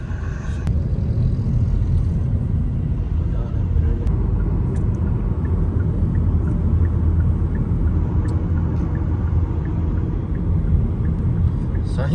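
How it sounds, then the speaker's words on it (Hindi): A heavily loaded water tanker truck fitted with a bike horn passes on a road, giving a loud, steady low rumble of engine and tyres that fills the whole stretch, with faint voices over it. "आसफ कसम से इतनी बड़ी गाड़ी आ रही है"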